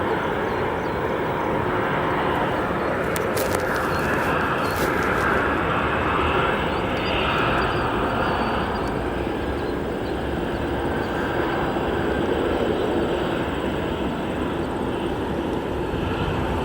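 An American 737 in TWA retro livery just arrived at O'Hare, a loud continuous jet engine roar and whine that stays steady for the whole stretch, close and dominant.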